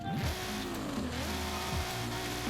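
A Nissan GT-R Nismo R35 in Forza Horizon 5, fitted with a race exhaust but stock fuel system and ignition, drones with a steady engine note that rises and falls slightly over a few seconds, with no talking.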